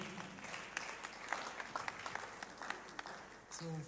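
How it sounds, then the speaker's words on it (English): Scattered clapping from an audience at an African creators conference, fairly faint and uneven, with talking mixed in and a voice near the end. "Please keep clapping, keep clapping"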